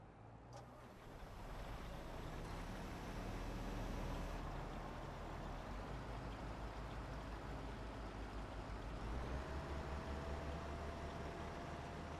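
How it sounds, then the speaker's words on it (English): A farm tractor in Farming Simulator 22 drives along with a steady, low engine drone and broadband rumble. The sound is continuous and fairly quiet, with no talking. "the tractor's moving up now"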